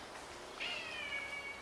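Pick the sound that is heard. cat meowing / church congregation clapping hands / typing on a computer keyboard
cat meowing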